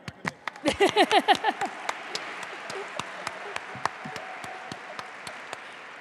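At a Latino Heritage Month awards celebration, a short burst of clapping from the audience swells quickly, mixed with a brief voice, then thins to scattered, separate claps that fade away.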